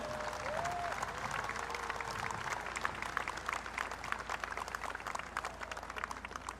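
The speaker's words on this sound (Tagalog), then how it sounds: "iparating ninyo ang init ng inyong palakpak at pasasalamat kay President Bongbong Marcos Jr." Audience applause for President Bongbong Marcos Jr. at a City of Manila event with Mayor Isko, steady dense clapping from a large crowd that holds at an even level throughout, with a brief voice tone near the start.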